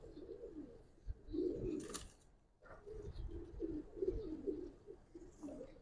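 Pigeons at a pigeon market coo softly and repeatedly, several low throaty calls close by in a quiet setting, with a brief rustle partway through.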